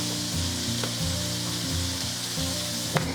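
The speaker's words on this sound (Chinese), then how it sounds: "接下来我们就加入1瓶可乐" Braising pork sizzling steadily in a pan while cola is poured in, a continuous frying hiss with a faint low bubbling and one sharp tap near the end.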